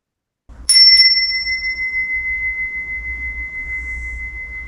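A meditation bell struck once during guided breathwork, a bright clear ding that rings out with a long, slowly pulsing sustained tone fading gently, alone in a quiet room.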